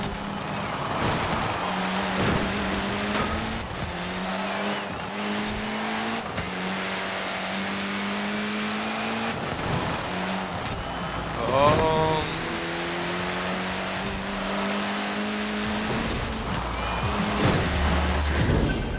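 Racing car engine in the video game Forza Horizon 4 revving and climbing through gears again and again, with whining rises and drops and a harsh surge near the middle, while someone talks quietly over part of it.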